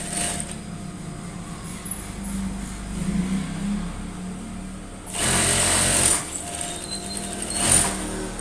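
A sewing machine stitches a dart on a dress front in a steady, continuous whir, with a louder burst of faster running in the middle and a brief pickup near the end.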